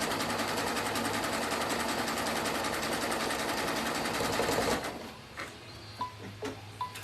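Close and loud, a sewing machine runs steadily for nearly five seconds while sewing a clothesline coaster, then falls quiet, leaving light clicks and handling noises.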